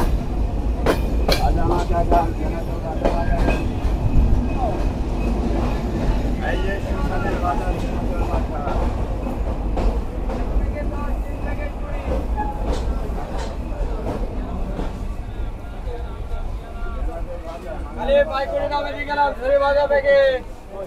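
The Kapotaksha intercity express rolls into Darshana Halt railway station in Bangladesh with a continuous rumble and rattling wheels, heard close, while voices murmur in the background and a screech rises near the end.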